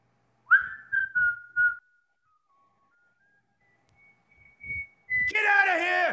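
A single person whistles a long, clear, slowly falling tone, imitating a group of marines whistling, after a few soft knocks; a voice then speaks.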